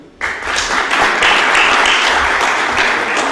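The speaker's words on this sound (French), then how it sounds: "Souad Alaoui et puis mon père Sadla Adlaté, je vous demanderai s'il vous plaît de les applaudir" An audience at a master's thesis defense breaks into applause after a brief quiet moment, rising at once into loud, sustained clapping from a roomful of people that continues to the end.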